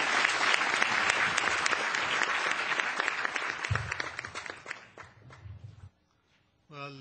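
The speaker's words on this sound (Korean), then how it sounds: "기소르만 교수님을 뜨거운 박수로 환영해 주시기 바라겠습니다." An audience in a lecture hall applauds to welcome a visiting professor for a special lecture on Korean civilization, a dense, sustained burst of clapping that gradually thins out and stops, followed by a short pause.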